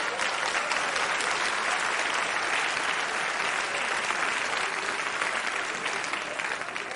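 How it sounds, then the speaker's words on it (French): Sustained applause from a live comedy sketch audience, an even, unbroken roar of many people clapping that holds steady for several seconds with no talk over it. "Faites gaffe à ce pourquoi vous applaudissez, vous êtes filmés."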